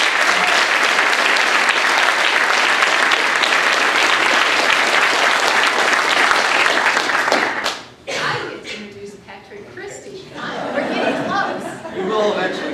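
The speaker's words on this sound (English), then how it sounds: "this is a chance for all of us to give Andre a huge round of applause." A seminar audience applauds loudly and continuously for about eight seconds, then the clapping cuts off and scattered chatter and light laughter carry on across the room.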